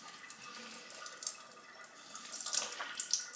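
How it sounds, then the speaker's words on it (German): Soaking water is poured off and squeezed out by hand while making Frikadellen, a faint, close trickle and splash in uneven spurts that swells near the end. "Gieße ich das Wasser ab und drücke so viel von dem Wasser wie möglich raus"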